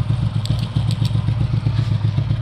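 A carbureted motorcycle engine idles steadily while its carburetor is being adjusted, a close, loud, rhythmic low putter with light mechanical clatter and no voices.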